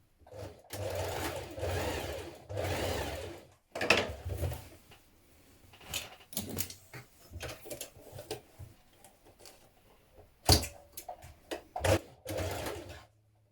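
A domestic sewing machine stitches the shoulder and side seams of a co-ord garment in several short bursts of rapid, whirring needle action, separated by pauses with small clicks and handling noises, close and clear.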